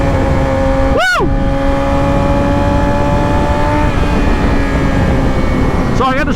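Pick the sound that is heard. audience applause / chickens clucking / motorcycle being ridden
motorcycle being ridden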